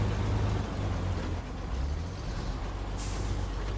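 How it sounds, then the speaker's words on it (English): A heavy truck in SnowRunner rumbles with a low, steady engine drone, and a short hiss of air brakes cuts in near the end, with no talk. "I'm going to have to take these two trucks down into the quarry"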